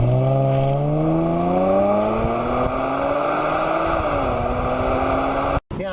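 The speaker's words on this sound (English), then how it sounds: "getting out on an open highway here, you can tell that it's a V6, not a V8" A Jaguar XF S Sportbrake wagon with a V6 engine accelerates along an open highway, its engine tone climbing steadily in pitch through the gears, heard from inside the cabin, loud and continuous before a brief cut near the end.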